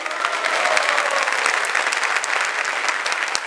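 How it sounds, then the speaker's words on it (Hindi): A congregation at a satsang at ISKCON Noida claps steadily and densely throughout, a sustained wash of applause from a crowd with no break. "बांके के नाम की अच्छी तरह ताली बजाओ सारे।"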